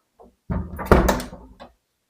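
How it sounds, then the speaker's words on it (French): A door being shut indoors, heard as one close, fairly loud thump-and-rattle lasting about a second after a faint tap, with no voices. "il faut refermer la porte."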